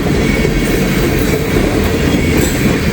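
A freight train of empty ethanol tank cars rolls past on a steep grade, loud and near, with a continuous heavy rumble and wheel clatter throughout.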